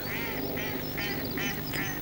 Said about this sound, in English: we've got a duck quack quack quacking